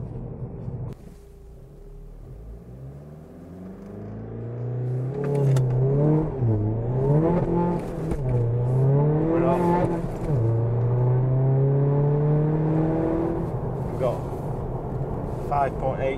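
A 286 bhp VW Golf Mk7 GTD with a tuned 2.0 TDI diesel accelerates hard on the road, its engine climbing loudly through several gear changes with rising whine and brief dips between shifts, close and sustained.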